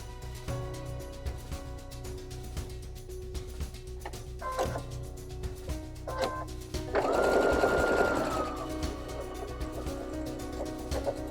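Sewing machine stitching rows of quilt block pieces made from half square triangles, a loud steady whirring run in the latter part after quieter handling noises, with no voices.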